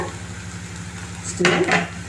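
Potatoes and peas tipped into a frying pan for masala puri and stirred, a short burst of scraping and sizzling over a steady low hum of frying.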